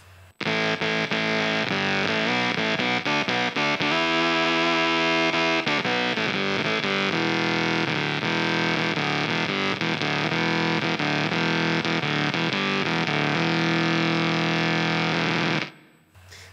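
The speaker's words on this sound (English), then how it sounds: "So yeah, that's the Space Rip by Pigtronix." A guitar runs through a Pigtronix Space Rip synthesizer effects pedal on a pedalboard, giving a loud, continuous, buzzy synth-like distorted tone with shifting notes. It plays alone for about fifteen seconds, then cuts off abruptly.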